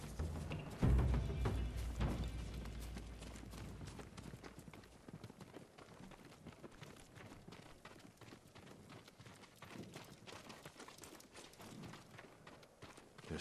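Samurai horses' hooves clip-clop at a walking pace on ground in Ghost of Tsushima, faint and steady after an initial louder thump, with ambient background noise throughout.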